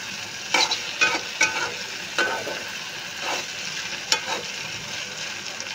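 Okra frying in a pan, stirred now and then, with a steady sizzle of hot oil and several sharp scraping clanks from the spoon against the pan; no talking.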